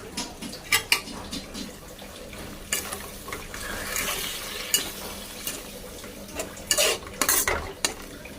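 Spices and salt for a prawn curry with kasuri methi being stirred and fried in a pan, with repeated metallic scrapes and clinks of a spoon against the pan over a continuous sizzle, close and fairly loud.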